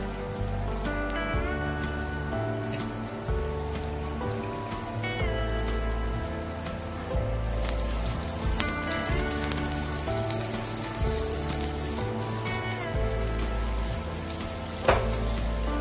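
Chilly cheese papad cigars shallow frying in a little oil over a medium flame make a steady, rain-like crackling sizzle that runs throughout beneath prominent background music.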